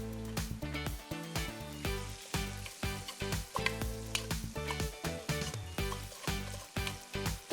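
Vegetables sizzle and crackle as they are stir-fried in a pan, with rhythmic scraping and tossing bursts repeating close by, loud and busy, without speech.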